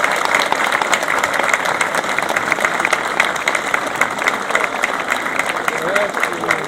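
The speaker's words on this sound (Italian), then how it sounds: "vogliamo sentire un applauso per tutte le donne che sono qui con noi" A large audience applauds steadily at the opening ceremony of the Antica Fiera di San Gregorio, a dense, continuous wash of clapping that stays loud and even throughout, with faint voices mixed in.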